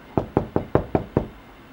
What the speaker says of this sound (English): They came back in an hour and knocked on the door.